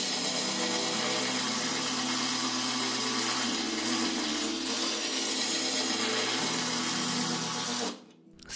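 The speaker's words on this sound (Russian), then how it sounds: "попробуем переключить на ударную дрель" A Rokodil Twist 2 Pro cordless impact driver in hammer-drill mode runs continuously up close with a harsh, buzzing hammering roar, briefly shifting pitch under load before stopping abruptly near the end.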